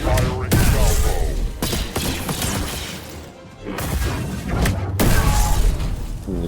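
Salvos of blaster fire in Star Wars Jedi: Survivor, loud clustered bursts of crashing shots and impacts separated by brief lulls, with fainter stretches between volleys.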